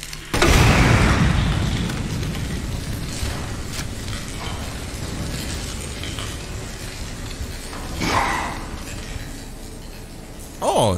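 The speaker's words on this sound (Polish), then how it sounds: "O, jeden strzał wystarczył" A single loud gunshot in Resident Evil 2, a sharp blast at the start followed by a long rumbling decay, with a few fainter clinks and knocks later.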